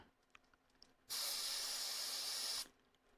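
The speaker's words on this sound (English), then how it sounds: "I'll probably just spray that off with some electronics cleaner real quick." Electronics cleaner sprayed from a can onto N64 parts, one loud steady hiss lasting about a second and a half, close up, with quiet before and after.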